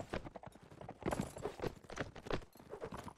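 Horse hooves clip-clopping in a multiplayer medieval battle video game, with steady rapid overlapping hoofbeats that sound like several horses moving together under a busy, continuous game mix.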